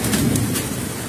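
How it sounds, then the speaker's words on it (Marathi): Unseasonal hailstorm with rain and thunder over farmland: a dense, loud, continuous roar of heavy precipitation with a deep rumbling low end, lasting about a second. "गारा पडत आहे त्या"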